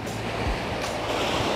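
Sea waves at a beach in Khao Lak, Thailand, make a steady, loud rushing wash onto the shore, with wind noise and no voices.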